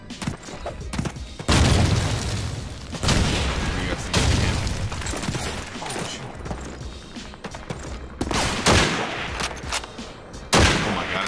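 Gunfire from the video game Call of Duty 2: loud, close bursts of rifle and machine-gun shots with booming impacts, coming in repeated volleys with short gaps between them.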